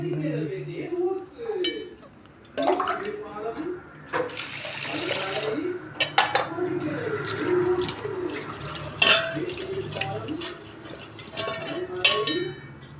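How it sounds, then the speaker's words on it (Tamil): Kitchen cleaning with running tap water and clinking dishes, intermittent splashing and clatter close by, with someone talking over it. "கிச்சன் க்ளீன் பண்ணிக்கிட்டே அப்படியே சாப்பாட்டுக்கு அரிசி ஊற வச்சுக்கலாம்."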